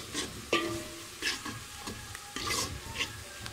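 Onions sizzle as they are stirred and browned in a pan, with scraping spoon strokes and crackling bursts, close up and fairly quiet, no talking.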